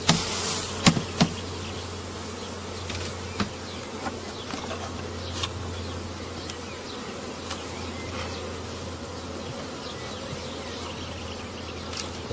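A thick, continuous hum of honeybees being shaken off hive frames, with several sharp taps and knocks as the frames are jolted.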